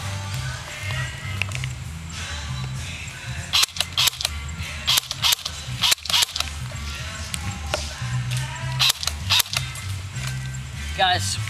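Airsoft guns snap off repeated sharp shots during an outdoor skirmish, some close and loud, others scattered, while players talk and call out over the firing.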